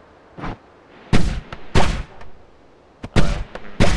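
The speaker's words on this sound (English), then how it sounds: "I fire off the heavy bolt again" In Noita, a heavy bolt spell fires from a crafted wand as sharp, booming blasts in irregular bursts, some single and some doubled, each with a short noisy tail and quiet between them.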